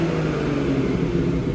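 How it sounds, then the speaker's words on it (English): A BMW M Performance 340i saloon with its sport exhaust open sits running, a steady, close, throaty low rumble holding even and unbroken for the whole moment with no revving and no talking. "open up both sides of that wonderful exhaust and give you a little sound demonstration of this super saloon"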